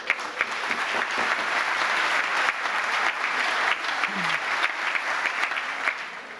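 A large crowd applauds steadily, a dense, continuous clatter of clapping that holds for several seconds before easing slightly.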